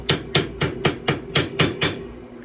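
A hammer taps down a rivet head, eight evenly spaced, sharp metallic strikes close by, with nothing else audible.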